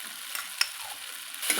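Noodles being stir-fried with a splash of vinegar give a brief close sizzle with a few quick spatula scrapes and taps against the pan, and no one speaks.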